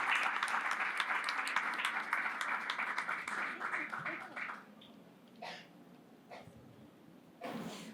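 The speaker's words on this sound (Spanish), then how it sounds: "Les brindamos a todos un aplauso de bienvenida y a Yanina le damos la palabra." Welcoming applause from an audience at a book presentation during a book fair, steady clapping for about four and a half seconds that dies away into a few scattered claps, faint breaths and a short burst of sound at the end.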